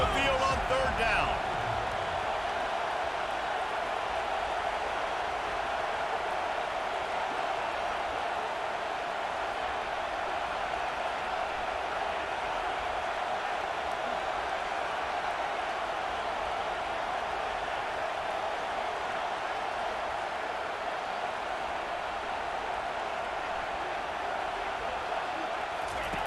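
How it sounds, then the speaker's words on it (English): Home crowd in a stadium at an Army versus Notre Dame football game, a broad sustained roar of many voices on a third-down play, steady and distant-sounding throughout. "Here comes this home crowd as the defense tries to get off the field on third down."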